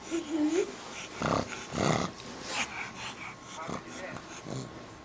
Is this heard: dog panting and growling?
yes